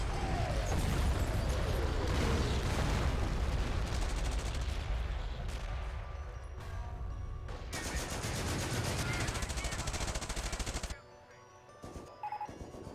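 An artillery barrage and gunfire fill a war video game battle with grenadiers advancing, a dense, continuous roar of shots and blasts that drops sharply near the end to scattered pops.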